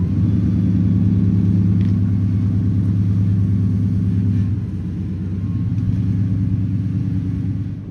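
A 1997–2003 Ford F150 truck engine runs freshly after an oil change, a loud, steady low rumble close by that holds, dips slightly midway, then swells again before easing off.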